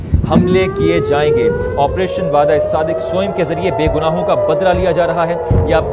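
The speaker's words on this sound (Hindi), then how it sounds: "ये पूरे इसराइल में तल अबीब में सायरन बज उठे हैं" Air raid sirens wail across Tel Aviv, Israel during a missile attack, a steady rising and falling tone held throughout beneath continuous news commentary.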